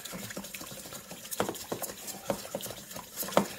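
A chopstick stirs lemon pepper marinade for chicken pieces in a bowl, giving close, irregular scraping and light clinking taps with soft wet swishes between them, fairly quiet throughout.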